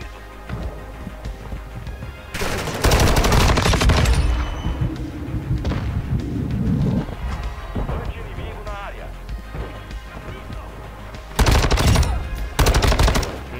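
Bursts of rapid automatic gunfire from a video game, loud and dense, opening after a couple of seconds and returning near the end, with game sounds and talk between.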